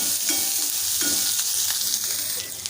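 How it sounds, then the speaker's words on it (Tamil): Onion and two green chillies sautéing in oil, a dense, fairly loud sizzle running throughout with a few soft stirring scrapes, close and without talk. "2 பச்சை மிளகா இதையும் சேர்த்துட்டு ஒரு 2 நிமிஷத்துக்கு வெங்காயம் வந்து கொஞ்சம் வதங்கட்டும்"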